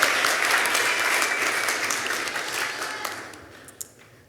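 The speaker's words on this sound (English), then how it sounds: "let's give a round of applause to Jalen Metcalf" An audience at a youth entrepreneurship pitch competition applauds a people's choice winner, a dense sustained round of clapping that gradually thins and fades toward the end, with a few stray claps near the close.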